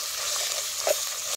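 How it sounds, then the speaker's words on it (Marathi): Ground spice paste frying steadily in oil for a fenugreek dumpling curry cooked over a wood-fired stove, giving a close, continuous hiss with a brief louder crackle near the middle as it is stirred. "आता या सौद्याला तेल सुटोसतोवर सौदा चांगला तेलात भाजून."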